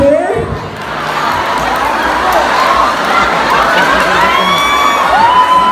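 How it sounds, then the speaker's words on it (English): Crowd at a beauty pageant cheers loudly with high whoops and shouts, a dense sustained roar that swells slightly toward the end, with no speech over it. "And the crowd goes wild."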